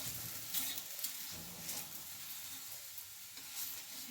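Masala chapati fries in oil on a pan, giving a steady close sizzle with soft crackles and occasional stirring scrapes, and no talk over it.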